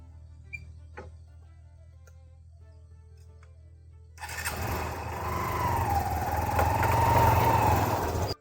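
A motorcycle parked in a field is started after a few quiet clicks, its engine catching abruptly and then running and revving steadily up close as it pulls away.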